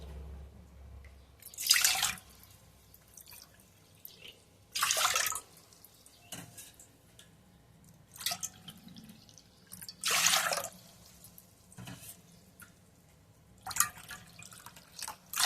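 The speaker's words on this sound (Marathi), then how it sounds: "त्याच वाटीने आपल्याला पाच वाटी पाणी घ्यायचं आहे" Water is poured from a small bowl into a cooking pot in several separate splashing bursts, spaced a few seconds apart, close and fairly quiet, with a hush between pours while dough for sabudana potato chakli is being prepared.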